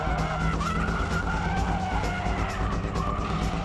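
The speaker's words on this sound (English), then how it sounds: "In braking drifts, just remember to leave that foot on the brake until the weight starts to shift" A car performs a braking drift with continuous loud tire skidding and squeal over a revving engine, sustained throughout without talk.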